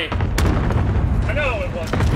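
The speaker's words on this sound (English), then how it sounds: "Cluster strike away." Cluster strike explosions in Modern Warfare, heavy booming blasts rumbling one after another, with a voice calling out briefly partway through.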